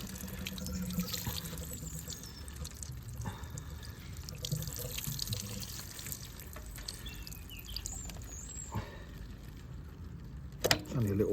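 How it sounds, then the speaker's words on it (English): Water drains from a Ferguson TEF 20 tractor during teardown in a steady trickling, dribbling flow with faint drips, close by and moderately quiet, with a sharper knock near the end. "I'm sure that's just water in there, although it does look a bit green."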